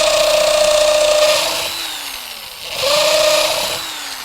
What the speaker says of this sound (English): get the pilot holes drilled for all of them